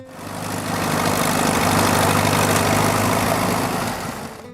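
A Minneapolis-Moline U tractor engine runs steadily with a low rumbling chug that swells in and fades out again. The sound is loud and close, with no voices.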